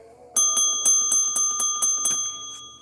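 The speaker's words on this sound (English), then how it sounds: "We can ring a bell for that, right?" A small bell rung in celebration, bright metallic dings struck about eight times in quick even succession, close and loud, each ring decaying into the next before fading.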